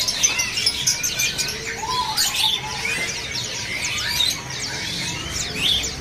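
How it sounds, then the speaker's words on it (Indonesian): An Asian pied starling (jalak suren) sings at a bird seller's stall, giving loud, close, varied whistles and chirps in quick bursts over a faint background hum. "di atas ini juga ada burung jalak suren ya"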